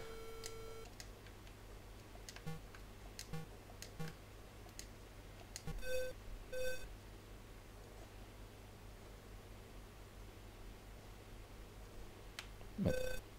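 Telephone keypad dialing in the adventure game Maniac Mansion: a few short electronic beeps spaced apart over a faint, steady hum and scattered clicks, quiet and without speech.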